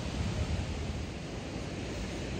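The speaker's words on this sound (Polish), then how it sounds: "Jestem już na plaży" Surf rolling onto a beach in Vietnam, a broad steady wash of waves mixed with wind buffeting the microphone, continuous and fairly loud throughout.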